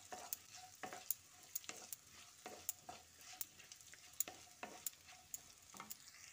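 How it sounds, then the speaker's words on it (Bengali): Chopped beans frying with carrots in a pan, a soft steady sizzle broken by regular sharp scrapes and clinks of a spatula stirring, fairly close and with no talking. "বিনটা দিয়ে গাজরের সঙ্গে আবারও ভেজে নিচ্ছি।"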